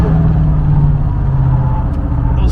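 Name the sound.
car accelerating at high speed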